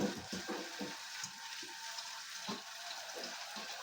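Green lentils sautéing in a pan on a home stove, a soft steady sizzle with light stirring scrapes and occasional clicks, quiet and close, no voices.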